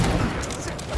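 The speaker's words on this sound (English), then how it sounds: "Someone's shooting at us!" Gunshots in the video game Dishonored 2, a rapid muffled volley of shots over low rumbling game noise, short and steady with a voice speaking over it.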